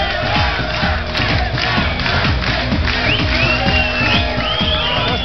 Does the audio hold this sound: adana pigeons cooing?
no